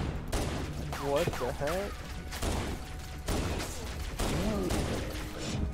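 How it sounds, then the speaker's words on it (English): Pistol and other weapon fire in Halo: Combat Evolved Remastered co-op play rings out in repeated sharp bursts amid game sound effects, with players talking over the action. "Did I just headshot him once with a pistol?"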